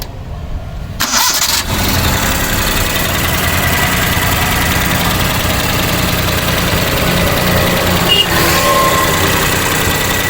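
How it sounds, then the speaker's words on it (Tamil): A used Maruti 800 car's engine starts and then runs at a steady idle, a loud continuous mechanical hum close by with no talking. "வண்டியோட இன்ஜின் சவுண்டை பார்த்தீங்கன்னா நீங்கள் கேட்டிருப்பீங்க, சூப்பராக இருக்குங்க."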